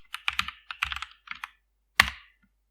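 Computer keyboard typing a terminal command on a Fedora Linux machine: three quick bursts of crisp key clicks, then a single louder keystroke, likely Enter, close and dry with no talking.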